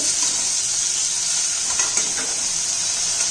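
Onions frying in a pan for a ridge gourd vegetable dish, a loud steady hiss of sizzling oil with a few faint stirring clicks, close and continuous, without talk.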